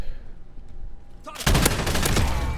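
PKM machine gun fire in Modern Warfare: after a quiet stretch with faint background hum, a loud, dense burst of rapid gunshots kicks in and keeps going to the end.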